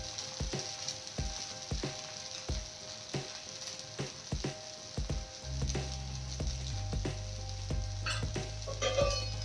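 A wheat flour breakfast cooking in oil in a pan over a low flame, giving a steady gentle sizzle with regular clicking taps, joined midway by a low continuous hum.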